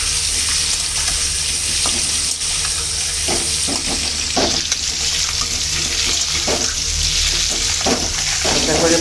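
Eggs frying gently in a pan on low heat, a steady broadband sizzle running throughout with occasional brief scraping or tapping sounds from a utensil, fairly close and continuous.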